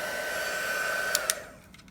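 A handheld heat tool melts embossing powder on a card, a steady close blowing whir with a couple of faint clicks near the end before it winds down and fades.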